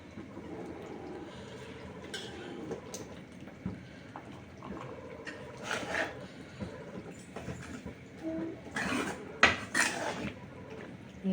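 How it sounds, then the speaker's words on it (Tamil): Boiled mochai beans tipped into a pot of kara kuzhambu, with metal clatter of a spoon and vessel, scraping and a few sharper clanks near the end, close up over a low background hum, no talking. "இப்போ வேக வச்ச மொச்சக்கொட்டையை போடலாம்"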